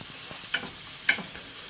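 A spoon stirring a quiche mixture of onion, courgette and goat cheese in a bowl: two quick, close scraping clinks in a short, otherwise quiet moment.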